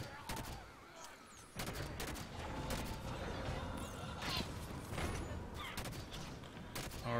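Gunfire and battle noise from the video game Halo 5 Guardians, with continuous bursts of shots, mechanical clatter and explosions layered into a dense, busy mix at moderate level.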